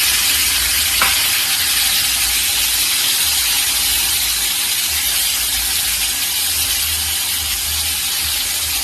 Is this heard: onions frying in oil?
yes